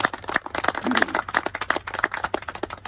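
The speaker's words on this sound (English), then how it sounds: "everybody please give him a round of applause" Audience applause at a ribbon cutting ceremony for a county road, with separate claps rising and falling in an uneven, fairly sparse rhythm, moderately quiet and slightly distant.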